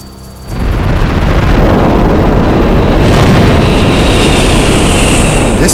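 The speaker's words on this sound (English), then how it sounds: "This mid-air explosion" A massive mid-air explosion of an object bursting high in the atmosphere, opening with a sudden heavy onset and then a loud, sustained roaring rumble that stays dense and undiminished to the end.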